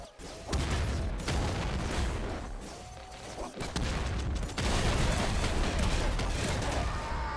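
Rapid video-game gunfire from a weapon in the roguelike Nuclear Throne: dense, loud bursts of shots and booms fire almost without pause, with a brief lull just before the midpoint.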